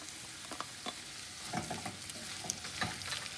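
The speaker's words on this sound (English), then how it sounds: "Now we're going to add the sliced onions." Sliced onions and garlic sauté in a pan for Kerala egg roast, a soft, steady sizzle with occasional stirring clatters, faint and close.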